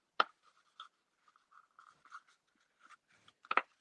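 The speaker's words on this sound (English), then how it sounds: "I'm going to fold the middle one in." Paper is folded and creased for a 3D Stampin' Up! Christmas craft project, giving sparse, close crinkles and soft sliding rubs with a few sharper crisp snaps, alone and fairly quiet.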